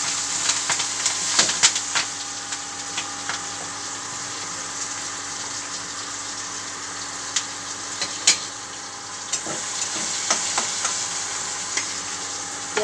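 Onions frying in oil with panch phoron and green chillies for a Bengali chhyachra dish, a steady close sizzle broken by sharp ladle-stirring scrapes and clicks, without speech.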